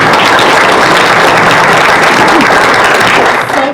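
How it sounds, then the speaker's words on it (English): A loud, dense round of applause fills a county board of education meeting, sustained and even throughout, tapering slightly at the very end. "So let's give Sadie a round of applause."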